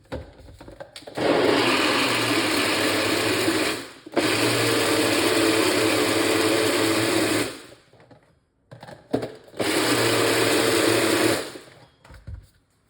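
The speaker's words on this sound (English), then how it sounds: "this is our blender which we're gonna be using" A loud blender whirs in two long runs, stopping briefly between them, with some short clatter around the pauses.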